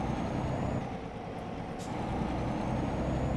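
A heavy truck in Euro Truck Simulator 2 pulling away, a steady low diesel engine drone that holds level and builds slightly toward the end, with a brief hiss in the middle and no talk.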